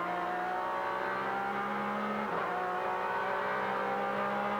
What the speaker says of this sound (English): New single exhaust gives it a very distinctive note.